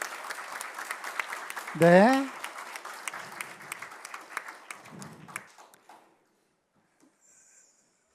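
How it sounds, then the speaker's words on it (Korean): Applause from a church congregation at an officer ordination ceremony in Auckland, moderate and steady for several seconds with a voice rising over it, then tapering off into quiet. "우리 큰 박수 한번 드리겠습니다"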